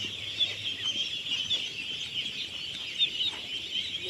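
Chickens cluck softly on a small farm, faint repeated clucks over a steady high insect-like hiss, with no talking.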